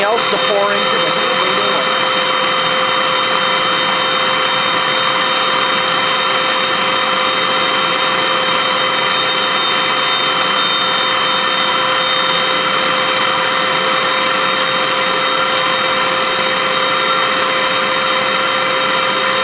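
A Hoover vacuum cleaner with mineral spirits poured in runs at a loud, steady drone with a constant whine throughout, no break in the motor noise.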